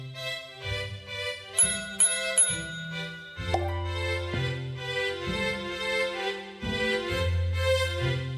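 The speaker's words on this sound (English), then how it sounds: "Maybe you should ring the bell, Charley." A shop bell in a children's cartoon rings with a few bright tinkling dings early on, heard over steady, prominent background music with no talking.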